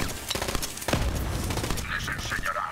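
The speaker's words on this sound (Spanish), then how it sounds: "Vale, pues le disparamos." Rapid bursts of gunfire from the shooter game Borderlands 3 crackle at close range in a dense volley, with a voice talking over part of the shooting.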